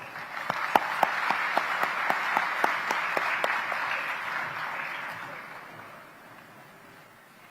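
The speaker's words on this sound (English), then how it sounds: "let us warmly welcome them with a big round of applause." A ceremony audience at a scholarship silver jubilee celebration claps warmly in a steady, moderate wash with a few sharp nearby claps, then the applause gradually fades away.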